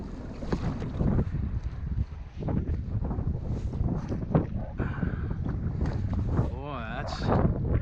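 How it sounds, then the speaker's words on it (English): Strong wind buffeting the microphone in a kayak out on a marsh, a constant loud roaring rumble filling the whole stretch, with a voice speaking briefly over it near the end. "the wind has picked up"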